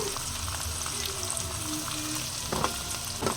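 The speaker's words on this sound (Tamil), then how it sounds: "ரொம்ப ப்ரௌன் ஆகிற அளவுக்கு வதக்க வேண்டாம் கொஞ்சம் மீடியமாக வதக்கிக்கோங்க வெங்காயம் வந்து வதங்கிருச்சு" Small onions frying in a pan for a pepper and cumin curry, a steady broad sizzle throughout with a couple of brief louder stirring scrapes near the end.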